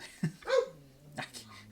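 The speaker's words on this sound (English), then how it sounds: "If you hear a dog barking in the background, apologies." A dog barks in short yelps and whimpery woofs somewhere in a room, a few separate bursts over a faint hum, moderately loud and a little distant.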